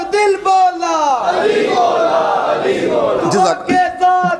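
A large crowd roars back in unison to a Nara-e-Takbeer slogan call at a religious gathering, a dense wall of shouted voices rising and swelling over several seconds before breaking off.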